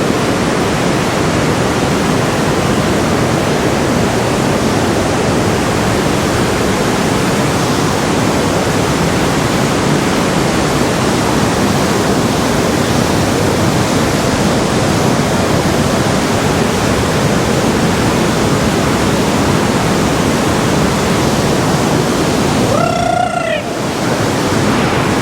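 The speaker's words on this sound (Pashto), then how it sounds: "څومره ښایسته غرونو منځ کې لږې لږې اوبه راغورځي" Water falls from above at the Sigmund Thun Klamm waterfall in the Austrian mountains, a loud, continuous roar heard close up with no pauses and no talk.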